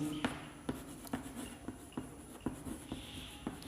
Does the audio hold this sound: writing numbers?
yes